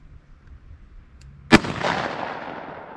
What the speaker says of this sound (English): now we'll try Hornady Critical Defense 44 Special 165 grain FTX projectile,